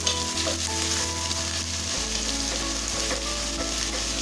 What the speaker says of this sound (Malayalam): ഇനി ഞാനിതിലേക്ക് സവാള ചേർത്ത് കൊടുക്കാം. ഇത് നമുക്ക് നന്നായി ഒന്ന് വഴറ്റിയെടുക്കാം.